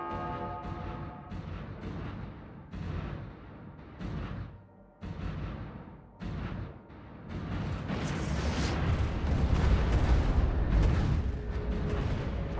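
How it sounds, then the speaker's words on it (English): Torpedo impacts in a space battle in the Stellaris strategy game: scattered heavy booms and bursts early on, then a dense, loud, continuous barrage of rumbling explosions for the final few seconds. "So hopefully these torpedoes hitting should save my transports."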